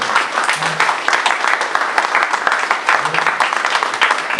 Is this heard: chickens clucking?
no